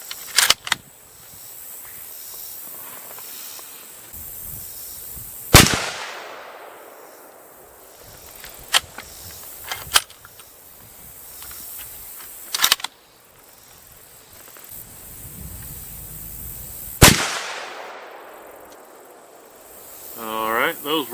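Three loud, sharp .25-06 rifle shots ring out several seconds apart, each a sudden crack with a trailing echo, and a few fainter clicks and knocks fall between them.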